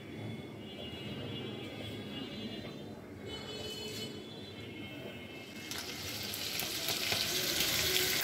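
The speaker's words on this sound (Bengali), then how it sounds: "চিংড়ি মাছটা প্রথম তেলে ভাজতেছ?" Shrimp frying in hot oil give a steady close sizzle that swells louder and brighter toward the end, with light stirring noises mixed in.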